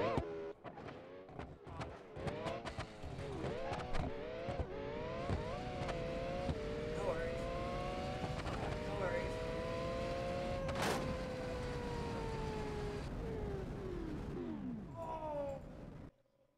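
A Formula One race car engine in the BeamNG driving game revs hard and continuously, its pitch climbing and shifting through gears for most of the stretch, with a sharp bang partway through before the engine winds down and cuts off at the end.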